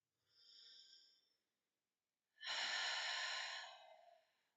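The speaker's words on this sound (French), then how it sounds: "Dernière fois, on inspire." A person breathes in audibly through the nose during a guided relaxation exercise: a short airy breath, a pause, then a longer, louder inhale-exhale, close and otherwise quiet.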